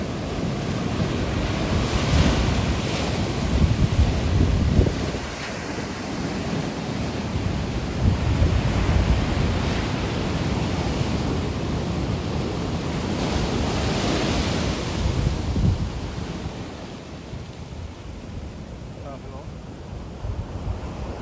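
Ocean waves roll and break steadily on a beach in Visakhapatnam, a continuous surging roar with gusts of wind buffeting the microphone throughout.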